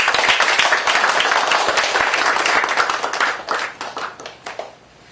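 Audience applause at the founders' meeting of a Korean unification forum, a dense wash of many hands clapping steadily before thinning into scattered claps and fading out.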